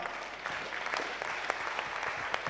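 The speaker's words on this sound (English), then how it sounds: "I thought you clap harder" Continuous applause from a church congregation during a sermon, a dense, even wash of many hands clapping with occasional sharper claps, steady for the whole stretch.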